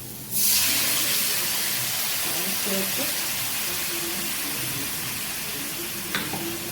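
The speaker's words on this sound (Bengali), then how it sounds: "এবার আমি মশলা পেশার যে মিক্সির জলটা দিয়ে দিলাম" Water from the spice grinder poured into hot frying masala for a potato, eggplant and katla fish curry, bursting into a loud sustained steamy hiss and sizzle that stays close and even throughout.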